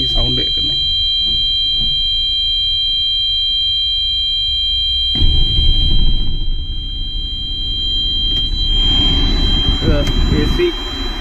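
A low air pressure warning buzzes steadily inside the cab of a Bharat Benz 3526R truck, a constant high tone running throughout over engine noise, with someone talking over it.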